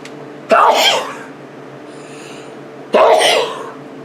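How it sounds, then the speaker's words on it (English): Two sharp, stifled sneezes about two and a half seconds apart, each a sudden burst that quickly fades, over a low steady hum. "Keeping that in, the sneeze."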